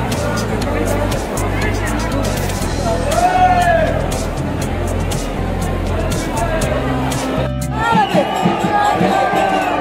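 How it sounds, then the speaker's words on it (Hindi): A large, dense crowd mills at Bandel railway station, a loud continuous babble of many voices with shouts and whistling calls rising over low rumbling traffic noise. "ये देखिए काफ़ी बहुत ही ज़्यादा भीड़ बहुत ही ज़्यादा"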